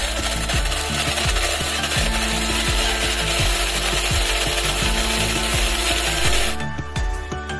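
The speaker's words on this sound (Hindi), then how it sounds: "तो चलिए ग्राइंड करते हैं।" A mixer grinder whirs loudly and continuously as dried coconut pieces are ground into powder, the blades churning with a gritty, rattling texture before the motor cuts off near the end.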